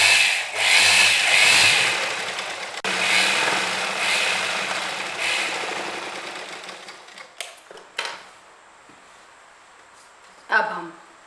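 A sewing machine stitching a kurti panel runs in long, fast, close bursts for several seconds, then stops, leaving scattered clicks and handling noises.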